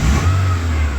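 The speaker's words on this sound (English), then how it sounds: "When I rev the engine" Honda Civic engine revving up close, a steady low rumble that swells slightly and holds for about a second.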